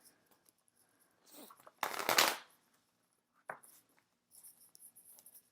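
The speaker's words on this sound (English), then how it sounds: "Let's do one more shuffle here." A deck of tarot cards is shuffled in a few quick riffling bursts, one louder burst in the middle, close and otherwise quiet.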